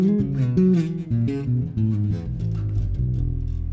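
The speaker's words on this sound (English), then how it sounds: "Neck pickup sounds like this." An electric bass played through its neck pickup, a run of warm, round low notes moving up and down with sustained tones, loud and close, with no talking over it.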